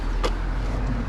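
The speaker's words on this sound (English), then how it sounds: "There's all these cars." Cars stream past on a busy road during morning rush-hour traffic, a steady broadband rumble of engines and tyres close by, with no voices.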